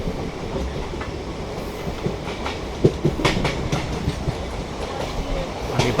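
A hydrogen train running on the Sonipat to Jind line, heard from on board as a continuous rolling rumble with sharp clickety-clack wheel beats over the rail joints, loud and close.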